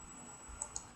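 Two quick mouse clicks, close and sharp, from someone working in a computer program while building a Kodu Game Lab level, over a faint steady hum with no talking.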